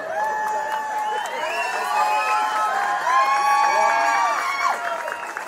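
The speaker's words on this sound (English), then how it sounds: "Another person who brought her own cheering section." A crowd at a pinup contest stage cheers, whoops and shouts for a contestant at a car show, a dense, loud wash of voices rising and swelling throughout.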